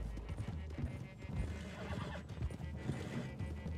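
Horse whinnying with steady clip-clop of hooves in the Red Dead Redemption 2 video game, loud and close, running continuously amid a busy game soundscape.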